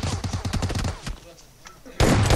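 Rapid gunfire bursts crackle through a PUBG Mobile firefight, a dense rhythmic volley in the first second, then a lull, then a loud sustained roar of shooting at the end.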